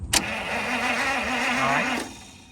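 A 1950 Pontiac engine cranks over on its starter for about two seconds, a steady close whirring drone with a slightly wavering pitch that cuts off abruptly. No one speaks.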